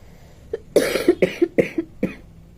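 A person gives a quick run of dry coughs, about six short sharp bursts in close succession, near and fairly quiet, with no talking.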